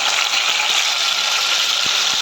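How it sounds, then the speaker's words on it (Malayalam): Curry leaves hit hot boiling oil in a pan, giving a loud, dense hiss and crackle with scattered small pops, close and steady throughout. "എണ്ണ തിളച്ചിട്ടുണ്ട് അതിലേക്ക് കറിവേപ്പില ഇട്ടുണ്ട്"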